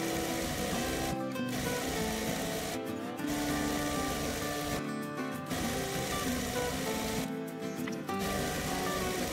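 A sewing machine stitches a long side seam and hem on a lightweight fabric overskirt for modern hanbok, running in steady whirring bursts with four brief pauses between runs.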